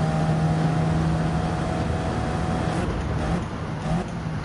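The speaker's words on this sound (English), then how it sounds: "The car might be a bit loud" A car engine in the racing game Gran Turismo 7 drones steadily and loudly throughout, a continuous mechanical hum that eases slightly near the end.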